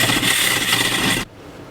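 An old DeWalt cordless saw on older non-lithium batteries rasps steadily through a step van wall, loud and close, then cuts out abruptly as the battery dies, leaving a low quiet hum.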